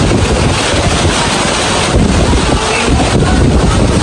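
Very strong wind roars at an outdoor 18th birthday celebration, buffeting the microphone with loud, continuous rushing noise and gusty surges throughout.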